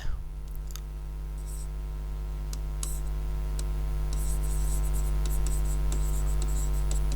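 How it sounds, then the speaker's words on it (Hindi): Pen writing by hand on a surface during a recorded law lecture, with steady faint scratching strokes and light clicks running continuously over a constant background hum, no talking. "चलिए लिखते हैं"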